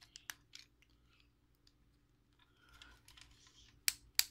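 A part of a plastic Transformers Galvatron toy is twisted until it clicks into place, giving a few sharp, close clicks between soft handling rustles in an otherwise quiet room.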